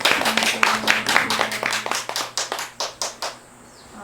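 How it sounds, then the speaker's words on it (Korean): Audience applause welcoming a female professor to a lecture on pansori Sugungga, a burst of individual hand claps that thins out into a few scattered claps and stops after about three seconds. "최혜진 교수님을 박수로 맞이하겠습니다"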